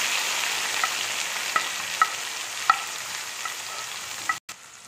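Tomato and tamarind paste fry in hot oil for a tomato pickle, giving a steady close sizzle with a few sharp spatters and stirring taps before a brief cutoff.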